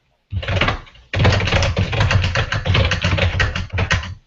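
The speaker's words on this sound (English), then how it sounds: "let me turn off so you don't hear my typing" Rapid, continuous clatter of keys on a computer keyboard, close by, with a short pause early on before the busy typing resumes.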